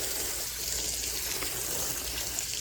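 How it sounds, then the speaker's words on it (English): A garden hose on a shower setting sprays a light, even drizzle onto a plant propagation tray, a steady soft hiss of falling water with no voices. "Again, just some garden hose with a shower setting, just to give it a little light drizzle."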